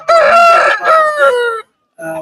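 A rooster crows loudly and close by in a long drawn-out call at a livestock market, followed by a brief pause and the start of another call.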